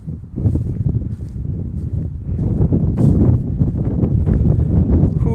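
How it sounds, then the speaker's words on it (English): Wind gusts outdoors beside a river, buffeting the microphone with a loud, low, fluctuating roar that strengthens toward the end, with faint rustling on top. "Ooh, she's getting windy."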